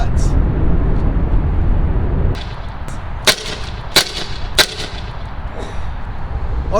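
Three sharp, loud pops from a less-lethal pepper ball gun firing inert .68 caliber rounds, spaced about a second apart, following a stretch of steady rumbling background noise outdoors.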